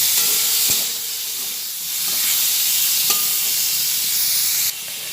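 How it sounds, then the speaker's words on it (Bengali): Potatoes fry in a pan with a continuous close hiss and sizzle, steady throughout with a couple of small clicks and no voices. "এরপরে আলুগুলোকে ভেজে নিলাম"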